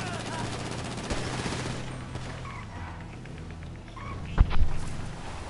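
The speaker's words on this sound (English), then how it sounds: "I'm trying so hard to shoot them." Bursts of rapid gunfire rattle in the crime game GTA Online, steady and moderately loud, with a sharp louder crack near the end and voices talking over the shooting.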